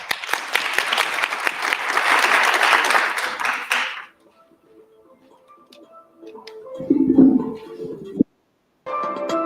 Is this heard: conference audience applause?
yes